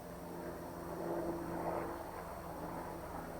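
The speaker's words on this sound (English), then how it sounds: "not just the sound of airplane," Airplane passing overhead, a faint, distant steady drone with a low engine hum that swells slightly and fades, heard alone against quiet surroundings.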